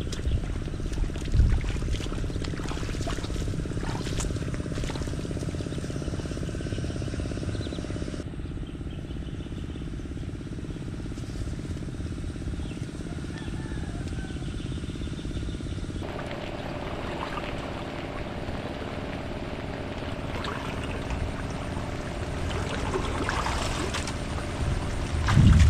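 Storm with flood water, a loud continuous rushing and splashing wash that runs unbroken and close, shifting in texture partway through, with no voices.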